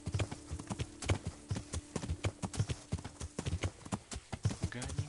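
Horse hooves drumming rapidly in the video game Kingdom Come, a close, rhythmic clip-clop gallop running throughout over a low steady hum.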